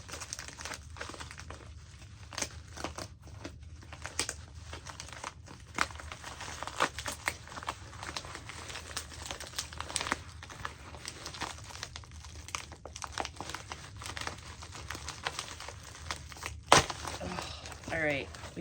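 Paper envelope sealed with strong glue being torn and pulled open by hand, with crinkling and ripping bursts close to the mic and faint talk in the background.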